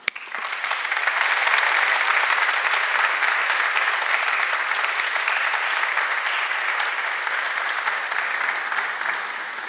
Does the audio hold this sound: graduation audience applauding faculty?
yes